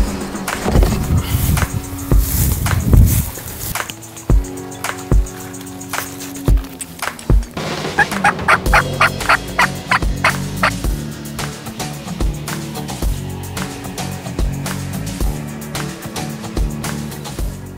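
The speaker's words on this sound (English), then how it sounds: "Had some birds gobbling back in the woods here" Wild turkeys gobble back in the woods during spring hunting season, several rattling gobbles at moderate distance, some overlapping, with quieter woodland gaps and occasional knocks between calls.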